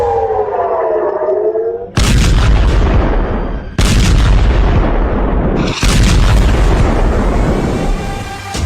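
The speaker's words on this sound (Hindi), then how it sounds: "नेतन्याहू को समझ नहीं आ रहा कि हिजबुल्लाह ने इजराइल के मिसाइल हेडक्वार्टर को कैसे आखिर उड़ा दिया।" Loud explosions from a Hezbollah strike on an Israeli missile headquarters: three sharp, roaring blasts about two seconds apart, each followed by a rumbling tail, preceded by a wavering siren-like tone.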